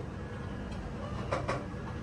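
A Bangalore-to-Delhi passenger train moves slowly through thick winter fog, giving a steady low rumble with a couple of faint clunks near the end and no talking.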